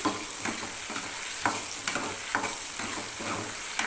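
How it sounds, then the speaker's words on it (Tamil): Onions sauté in a pan for a spinach curry with a steady, close sizzle and a regular run of spatula stirs and scrapes repeating about every half second, with no voices. "வெங்காயம் இதெல்லாம் பாதி அளவு வதங்கினா போதும்"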